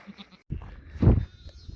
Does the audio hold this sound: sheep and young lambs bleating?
yes